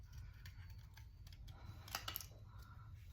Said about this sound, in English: Then we'll just kind of fussy cut around this top edge